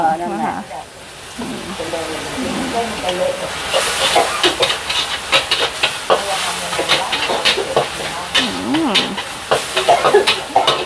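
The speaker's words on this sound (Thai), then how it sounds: "ไม่ผัดในกระทะแล้วเอาไปลวกน้ำมันจืดค่ะ" Shrimp blanched in hot plain oil at a long-running waterside noodle shop, with a steady crackling sizzle and stirring clatter throughout, loudest midway, while voices talk over it.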